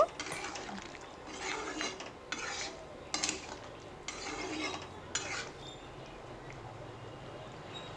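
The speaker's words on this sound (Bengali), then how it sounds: "এখানে চিংড়ি মাছগুলো দিয়ে দিলাম এর সঙ্গে, দিয়ে একটু মিক্স করে নেব" Prawns being stirred into a taro (maan kochu) curry in a pan, with repeated scraping and clinking of a utensil against the pan in short bursts over a steady background hiss.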